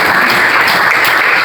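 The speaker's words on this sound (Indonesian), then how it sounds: "tepuk tangan untuk David." Applause from an audience at a physics lesson in an Indonesian classroom, a dense, steady wash of many hands clapping at once, fairly loud and close, with no talk over it.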